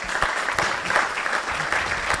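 Sustained audience applause with dense, even clapping fills the room at a youth leaders awards ceremony in Jamaica, steady and fairly close throughout.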